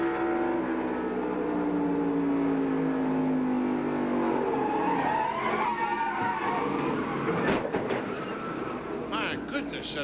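A 1996 NASCAR Winston Cup car at New Hampshire International Speedway roars at high revs from the in-car camera, the engine note dropping as it skids, then a sharp crash into the wall, with commentators talking over it.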